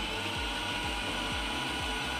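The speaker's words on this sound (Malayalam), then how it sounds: "എന്നിട്ട് അതിലേക്ക് കുറച്ച് വാനില എസൻസും കൂടി ഒഴിച്ച് നന്നായിട്ടൊന്ന് അടിച്ചെടുക്കുക" An electric mixer jar whirs steadily as it blends milk powder, vanilla essence and ice cream mix, a loud continuous motor drone with a rhythmic low pulsing throughout.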